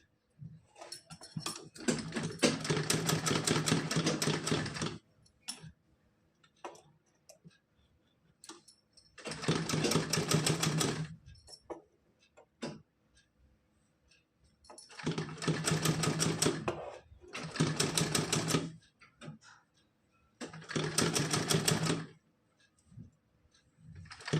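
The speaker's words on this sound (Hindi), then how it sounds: "इस तरह से सिलाई लगा लेना है इस पे।" Sewing machine stitching fabric for a small doll dress, running in four loud sustained bursts of rapid rhythmic whirring, each several seconds long, separated by quiet pauses with faint handling sounds.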